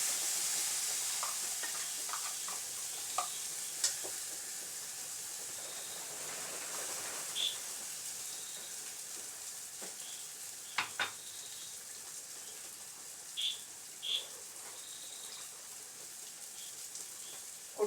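A roasted ground coconut paste goes into a quietly sizzling curry in a Kerala home kitchen, with a soft steady fry under occasional scrapes and clinks of stirring utensils over nearly eighteen seconds.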